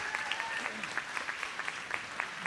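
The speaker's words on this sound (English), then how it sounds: "give them a lot of love with a big round of applause" Applause from guests at a charity gala dinner, a fairly soft, steady patter of many hands clapping, with faint crowd murmur underneath.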